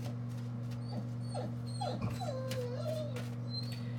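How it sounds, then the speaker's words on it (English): A dog whimpers in short high whines, a few rising yelps then a longer wavering whine, moderately close over a steady low hum. "that's my dog again, sorry about that."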